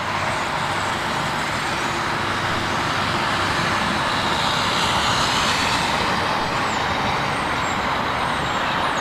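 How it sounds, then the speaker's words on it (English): An Iran Air Airbus A330 approaches to land at London Heathrow, its jet engines producing a loud, continuous broadband roar that stays steady throughout. "Great looking aircraft"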